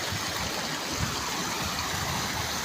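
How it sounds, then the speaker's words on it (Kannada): Malaprabha river water rushing steadily over rocks on an evening outing, a dense, continuous close-up wash of flowing water with no voices. "ನೋಡ್ಬೋದು ನೀವು, ನೀರು ಯಾವ ಥರ ಹೋಗ್ತಾ ಇದೆ ಅಂತ."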